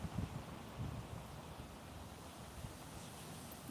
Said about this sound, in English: But you can hear the waves